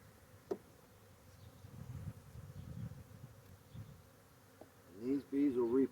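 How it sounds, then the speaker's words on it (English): A low, soft buzzing of honeybee nurse bees being shaken into a queen-rearing starter-finisher hive rises and falls, with a sharp knock early on and a few louder, wavering buzzes toward the end. "shaking nurse bees into that starter finisher"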